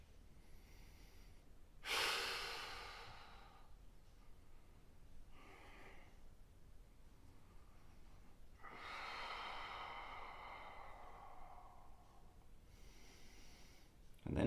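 A person seated in a back stretch breathes slowly and softly, one deep audible breath followed by a longer, louder exhale, set against quiet room background.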